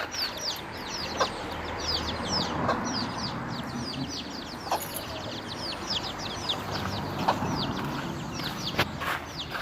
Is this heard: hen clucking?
yes